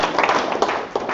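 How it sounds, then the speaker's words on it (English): Brief burst of audience clapping at a startup weekend final pitch event, a dense crowd applause heard fairly close and loud throughout the short moment. "So why don't we just give them a round of applause"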